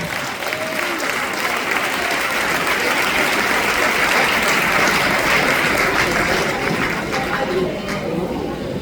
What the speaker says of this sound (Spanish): Habrá alguien en esta mañana que le da un fuerte aplauso a Jesús